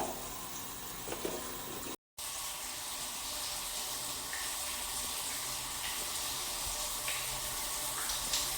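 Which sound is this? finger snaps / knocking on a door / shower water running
shower water running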